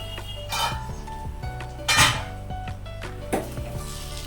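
Potol posto, pointed gourd in poppy seed paste, stirred in a pan, with close metallic clinks and knocks of the utensil against the pan at an irregular pace over a low steady hum.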